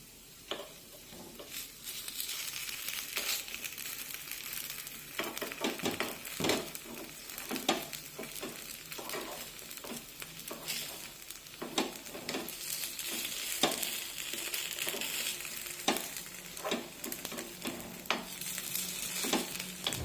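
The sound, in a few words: carrot appe sizzling in oil, being flipped in pan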